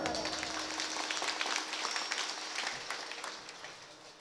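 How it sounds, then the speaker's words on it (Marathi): Steady applause from an audience at a kirtan gathering, a dense even patter that continues throughout at moderate volume. "सगळ्या एकदा जोरदार टाळ्या"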